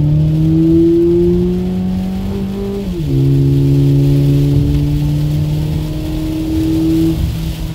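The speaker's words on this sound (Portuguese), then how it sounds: "Vamos ver se aqui dá pra gente dar uma aceleradinha pra vocês verem aqui no contagiro como é que ele trabalha." A VW Polo GTS fitted with a K&N air filter revs steadily in rainy conditions, its engine note climbing, dipping briefly around the middle, then rising again in a close, loud, continuous drone with no talk.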